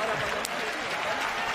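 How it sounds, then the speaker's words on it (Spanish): Crowd at a boxing event in Bilbao gives an ovation, a brief, dense wash of clapping and cheering that holds steady throughout. "la ovación del público también de Bilbao a Luis Solís"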